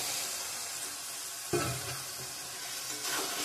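Fried potato, cauliflower and soybean pieces are stirred into masala for a curry, giving a steady sizzle with a scraping stir at mid-clip and another soft rustle near the end.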